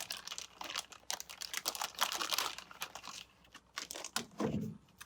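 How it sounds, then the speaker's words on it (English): A plastic baggie of paper craft ephemera is handled up close, giving crinkly rustles and taps in uneven bursts, with a short pause before a final handful of crackling. "we're going to grab our baggie of ephemera."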